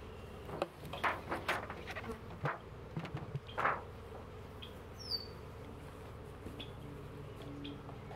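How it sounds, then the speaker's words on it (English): Russian honey bees buzz close by as they clean sugar syrup off a can at a newly installed hive, a steady low hum broken by several louder passes in the first few seconds, then settling into a quieter drone. "And here's some bees cleaning off that sugary can."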